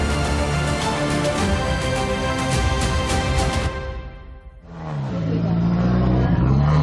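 Subaru XV rally car on a stage accelerating hard through its gears, engine howling loudly, then a brief dip and a fresh climb in pitch as the next gear takes hold.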